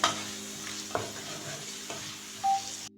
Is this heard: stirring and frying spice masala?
yes